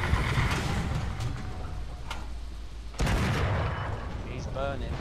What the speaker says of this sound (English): Artillery, fire.